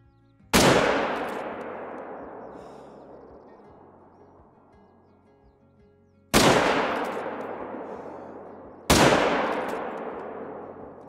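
Three heavy gunshots from enemy-shooting in a video game, each a loud, sharp blast with a long, slowly fading echoing tail, spaced several seconds apart with no voices.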